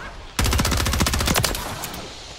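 An electric weapon firing in Modern Warfare III, a loud, rapid automatic burst of crackling shots lasting about a second and a half, then fading into a ringing tail, close and without talk.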